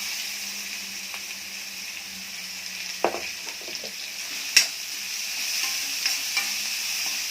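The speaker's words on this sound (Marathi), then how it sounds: "थोडा सोनेरी झाला की लगेच कांदा आणि मिरची टाकून घ्यायची." Onion and chili frying in a pan for a ridged gourd vegetable dish, a steady sizzle with a few sharp clinks and stirring scrapes near the middle, close and moderately loud, no talking.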